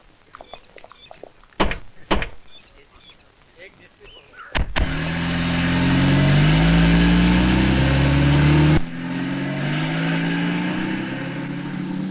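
A car door thunks shut a few times, then the engine starts and a steady, loud driving drone carries on. Partway through the noise drops suddenly to a quieter hum, while people talk over it.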